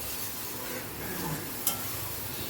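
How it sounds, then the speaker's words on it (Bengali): Spice paste frying in a little oil in a pan while pumpkin is being cooked gives a soft, steady sizzle with light stirring, faint and continuous, with one brief clink near the end. "দেখুন, মশলাটা ভালো করে কষিয়ে নিচ্ছি।"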